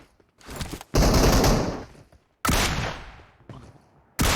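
Gunfire in the PUBG Mobile battle royale game: several loud, sharp bursts separated by short gaps, each decaying quickly, with no talk over them.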